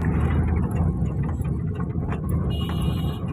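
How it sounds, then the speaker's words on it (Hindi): Road vehicle noise heard from inside while travelling to a cattle farm, a loud continuous engine and tyre rumble with wind roar, steady throughout with no talk. "वैसे खैर से गाड़ी का शोर भी बहुत ज़्यादा आ रहा है।"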